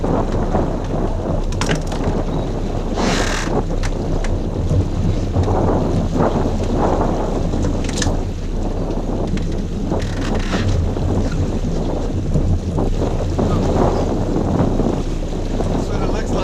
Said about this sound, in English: The waves are just kind of choppy and not very enjoyable.